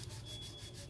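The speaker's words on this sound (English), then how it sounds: "I'm letting the sandpaper do the work." Sandpaper is drawn lightly over a plastic Blitzer Beetle RC car hardbody in a few quiet, rhythmic rubbing strokes, soft and close.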